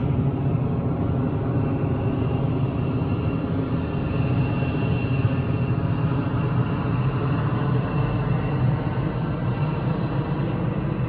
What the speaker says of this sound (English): Here comes a big plane, obviously. Hear that.